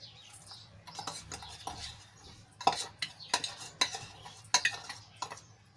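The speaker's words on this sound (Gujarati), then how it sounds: "અને કેરીમાં સરસ રીતે મિક્સ કરી લઈશું જેથી કરીને મસાલો બધો સારી રીતે કેરીમાં ભળી જાય" Mango pieces being tossed with spice masala in a bowl for gunda-mango pickle, a series of close, soft scraping and clinking stirs in uneven bursts, with no talking.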